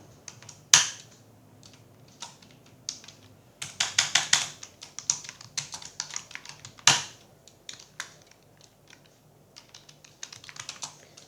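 Typing on a computer keyboard while filing an income tax return gives bursts of quick close key clicks with irregular pauses and a few louder single presses, with no voices.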